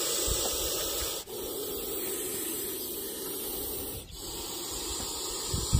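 A saw-scaled viper, coiled, gives a steady, harsh hiss like a pressure-cooker whistle, unbroken for several seconds, loud and close, with two brief dips where it pauses for a breath.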